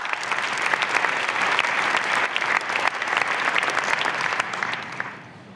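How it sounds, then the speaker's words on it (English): Applause at a conference opening ceremony, a large audience clapping loudly and continuously before fading out at the end. "So please give a big applause to Professor Carlsen as well."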